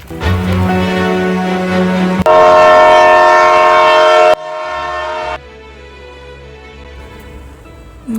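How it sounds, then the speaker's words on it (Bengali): A train crosses the Padma bridge with loud, steady rumbling and grinding. A long horn blast rises in the middle, then the rumble carries on more quietly, with no voices. "গোসল করতে করতে দেখলাম সেতুর মাছ দিয়ে ট্রেন যাচ্ছে"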